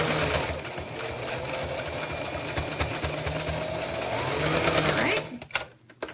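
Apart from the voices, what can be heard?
sewing machine sewing a zipper with a zipper foot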